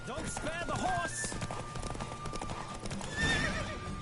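Rapid clip-clop of a galloping horse in The Witcher 3, with a neigh and whooshing wind throughout, loud and close.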